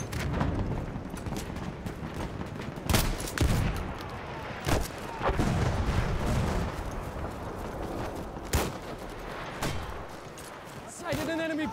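Mortar and gunfire in a Battlefield 1 multiplayer battle, with heavy booming blasts striking every few seconds over constant rattling shots and battlefield din, and someone talking now and then.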